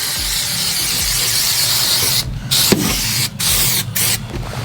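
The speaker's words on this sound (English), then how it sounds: "Trusty spray adhesive, so Trim Fix adhesive." Trim Fix spray adhesive hisses from an aerosol can in bursts, a steady broadband spray broken by several short pauses, close and fairly loud, with no voices.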